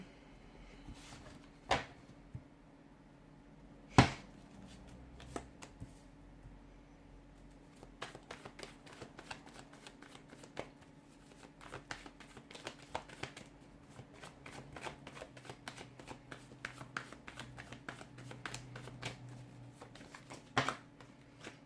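A deck of tarot cards shuffled close up, soft riffling and patter in quiet irregular bursts, with a few sharper taps as the cards are handled.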